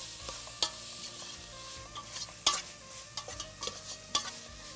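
Carrots sautéing in oil in a pan, with a steady low sizzle and a few sharp utensil scrapes and clinks as they are stirred, heard close with no talk.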